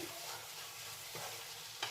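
Vegetables stirred in a frying pan for an eggplant curry with coriander, mint and curry leaves, a steady sizzle with scraping spoon strokes near the mic, a louder clatter near the end.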